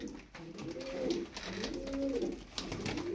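Several pigeons, black show pigeons in a loft, cooing in repeated low rolling phrases, close and steady against a faint room hum.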